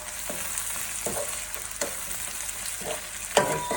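Fresh chilies fry in a curry pan for a chicken curry, a steady close sizzle broken by a few scraping stirs of the spoon, with no talking.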